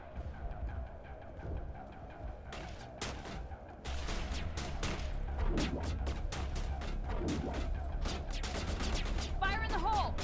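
Repeated bursts of gunfire in Mass Effect Legendary Edition, on the hardest difficulty, rapid and fairly close over a steady low rumble, beginning sparse then thickening into sustained volleys, with a player's voice breaking in briefly near the end.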